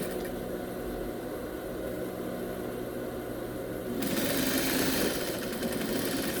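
A sewing machine topstitches a seam with a steady continuous whirring hum, close and constant, growing louder and brighter partway through as it speeds up.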